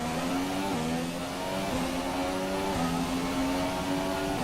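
A loud, continuous Formula 1 engine in the racing video game F1 2017 whines at high revs, its pitch dipping and climbing again at each gear change, several shifts in quick succession.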